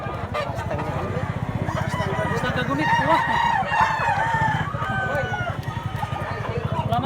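Roosters and chickens in a yard crowing and clucking continuously, several birds close by with a steady low engine or machine hum underneath, while someone talks briefly.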